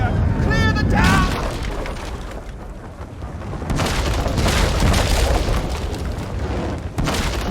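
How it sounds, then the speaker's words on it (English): Mage fire explosions in an Elder Scrolls Online battle, booming bursts and rumbling blasts rolling over a continuous roar, with a shouted voice at the start. "That's mage fire!"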